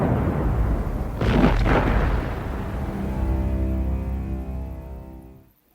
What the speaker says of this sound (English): An explosion lights up the cabin window.